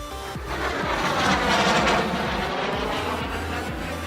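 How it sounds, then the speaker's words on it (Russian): A military airplane's engine roars steadily and loudly, with a broad rushing rumble that peaks briefly before easing slightly. "Военный самолет."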